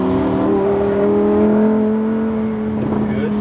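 A Lamborghini Huracan accelerates on a race track, its engine note rising steadily in a loud, close, sustained whine with a strong tonal drone throughout.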